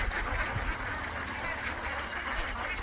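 A flock of ducks raised for a duck-selling business quacks continuously, faint and at a distance, mixed into a steady outdoor hiss with no speech.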